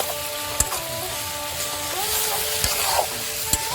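Pig's head meat fries in a pan at an outdoor picnic, giving a steady sizzle with a few sharp clicks of the stirring utensil, close up, with no talking.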